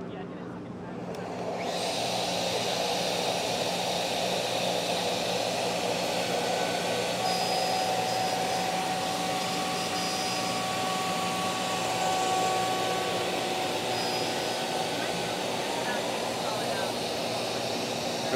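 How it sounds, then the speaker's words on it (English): CNC router spindle spinning up and cutting a plate at two different depths, a loud steady high-pitched whine with broadband machining noise that holds constant after a quick start, with faint tonal shifts as the cut changes. "mind your ears, I'm gonna turn on the spindle"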